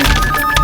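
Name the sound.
phone ringing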